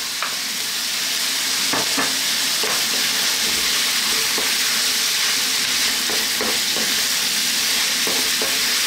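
White cabbage and cauliflower stirred in a hot pan for a chickpea cumin vegetable stew, giving a loud steady sizzle with intermittent scraping and clinking of the spoon, close up and without voices.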